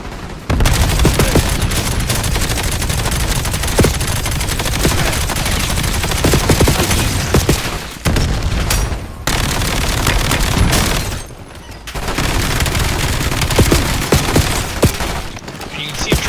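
Rapid submachine gun fire in a video game, loud bursts running nearly throughout with short gaps, mixed with explosions and booms and a voice talking over the action.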